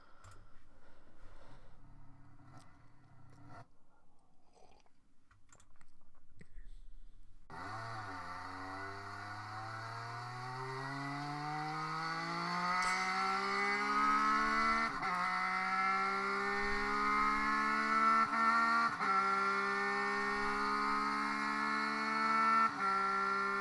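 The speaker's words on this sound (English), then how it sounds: "let's have a little listen to see what this Speed Triple sounds like with its stock cam" A motorcycle engine starts after quiet handling, then revs repeatedly through rising and falling pitches, loud and close, with gear shifts between pulls.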